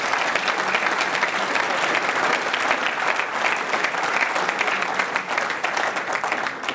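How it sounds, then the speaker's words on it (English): A large audience at a reform convention gives a long, dense round of applause, steady and loud throughout without a break. "a big round of applause for them"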